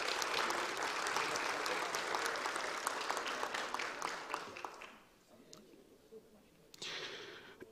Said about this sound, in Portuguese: eu peço uma salva de palmas a esses empresários